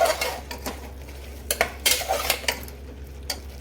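Ground cumin, coriander and garam masala being stirred in a pan with a spoon, giving a few sharp metallic clinks and scrapes spaced irregularly over a low steady hum, fairly close and moderately loud.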